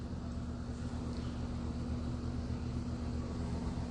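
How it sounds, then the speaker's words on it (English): An airplane flies nearby, a faint, steady low drone that holds evenly throughout, heard from a distance with no other sounds. "Fly cautiously. There's a plane nearby."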